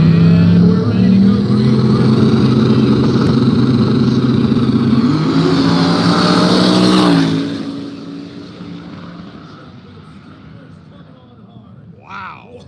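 No-prep drag race cars scream past at full throttle at an outdoor track, a loud engine roar that holds, then drops away sharply after about seven seconds, leaving crowd noise and a distant rumble.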